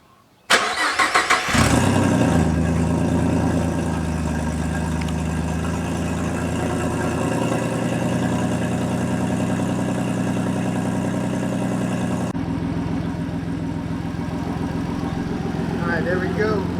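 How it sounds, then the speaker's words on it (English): A 3.7 V6 Mustang with a big single turbo and a possible exhaust leak cranks briefly from cold and catches, then settles into a steady, loud idle that runs on with a slight change in tone partway through. "now let's get a cold start to see if we fix that exhaust leak."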